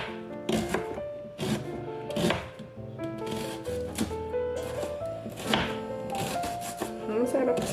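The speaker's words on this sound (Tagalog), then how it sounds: "Hatiin ko lang tong sibuyas para may magamit pa ako sa susunod." Knife chopping an onion on a board in a home kitchen, a series of crisp, close cuts in irregular bursts, with a faint tonal background underneath.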